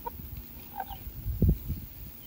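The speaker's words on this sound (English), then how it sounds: "So this is Kiki, our rooster." A rooster and chickens cluck close by in a backyard flock, a few short uneven calls with one louder burst near the middle and no talk.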